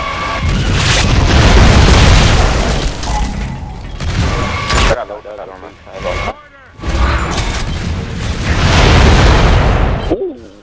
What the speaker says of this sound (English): Watch out, mortar. Incoming!